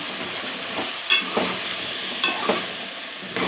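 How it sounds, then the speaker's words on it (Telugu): Brinjal and potato curry stirred in a pan, a continuous sizzle of frying with several scraping strokes of a spoon against the pan, close up and with no talking. "మంచిగా కలుపుకోవాలి"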